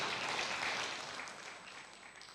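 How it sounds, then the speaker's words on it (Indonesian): A church congregation applauds for God during a worship service, a broad steady clatter of many clapping hands that stays fairly even and slowly eases off, with no voices over it. "Berikan tepuk tangan yang meriah buat Tuhan."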